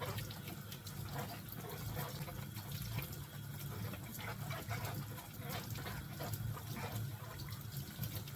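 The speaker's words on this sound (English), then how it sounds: "And then I like to rinse it off very well." Cabbage being rinsed under a running kitchen tap, a steady broadband wash of flowing water that holds at an even level for the whole stretch with no talking.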